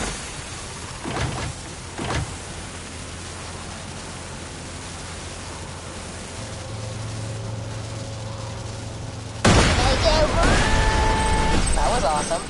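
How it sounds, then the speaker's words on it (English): A loud, sudden explosion of placed charges blowing open safes on a train in Borderlands 2 erupts late and continues as a dense, roaring burst with scattered debris, following a steady low rumble and some earlier thuds. "Put the rest of Tina's explosives on those safes and watch the fireworks."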